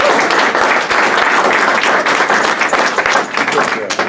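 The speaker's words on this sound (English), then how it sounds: "please give them your biggest applause" An audience applauds two speakers at a literary talk in West Seattle, a loud continuous patter of many hands clapping, with scattered sharper claps and murmuring voices mixed in.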